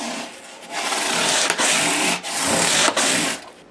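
Hand sanding the edges of a workpiece with 400-grit sandpaper, giving a steady, close, dry rasping hiss that stops briefly between a few long strokes.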